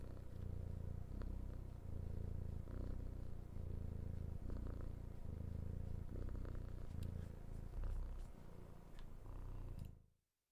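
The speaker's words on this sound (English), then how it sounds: "They purr so much, these baby chickens." Baby chickens purr in a soft, continuous rumbling pattern close up, steady pulses with faint ticks above, before the sound cuts off abruptly at the end; no talking.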